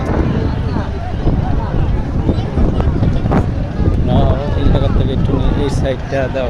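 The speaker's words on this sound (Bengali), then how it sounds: "কত সুন্দর বাতাস আসমানটার কি অবস্থা" Gusty wind buffeting outdoors beside rippling water, a steady broadband rush with no clear pause, mixed with nearby talk and background voices throughout.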